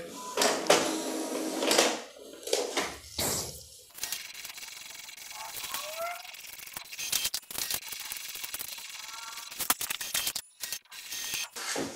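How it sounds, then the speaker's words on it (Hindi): An Epson L3252 inkjet printer runs through a print job of three pages, with clicks and ratcheting gear noises giving way to a steady mechanical whir as paper feeds and the print head shuttles. "अब यहाँ पर कुछ प्रिंट आउट आपके प्रिंटर से निकलेगा"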